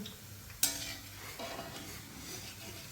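Pakoras clatter onto tissue paper with a sharp utensil clink, and a soft oil sizzle and light stirring scrapes continue in the background.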